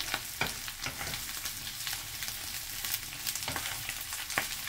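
Onion, garlic and pepper with oyster sauce sizzle and crackle steadily in a hot oiled pan, with intermittent scrapes of stirring, close and fairly quiet.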